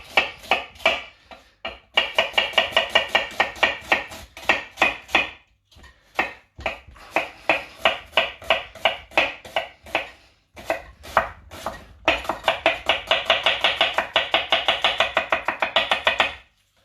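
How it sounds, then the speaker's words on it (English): Brisk knife chopping on a cutting board for a sausage and bacon stuffing, a steady run of sharp, close taps in quick rhythmic bursts with short pauses between them. "So I'm just going to chop this."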